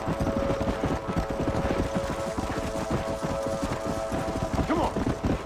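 Galloping horse hooves clip-clopping densely in the Red Dead Redemption video game, a herd of wild horses running continuously with a brief neigh near the end.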